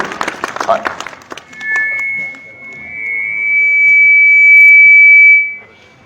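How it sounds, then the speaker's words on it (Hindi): Students at a school inter-house competition closing ceremony are applauded with a short burst of clapping, which is soon followed by a sustained, loud electronic beep. "जोरदार तालियां आप एक बार इन सभी विद्यार्थियों के लिए"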